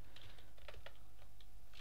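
Keys clatter on a faulty computer keyboard in a quick, close run of irregular clicks at low volume over a steady background hum.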